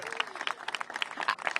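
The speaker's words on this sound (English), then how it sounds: "Give her a big round of applause." A crowd at a mayoral arena announcement breaks into a faint round of applause, scattered claps rising and falling in a quiet, brief burst.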